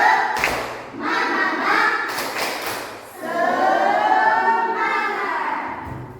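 A primary school class does a rhythmic spirit clap, bursts of hand claps in patterned groups mixed with the children's chanting voices, loud and close.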